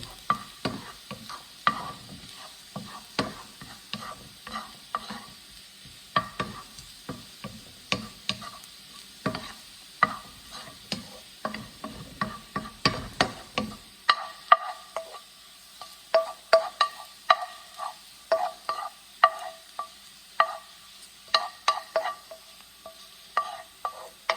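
Onions frying in a pan, heard as rapid irregular crackles and pops with intermittent stirring clatter, fairly faint and close, with no talking.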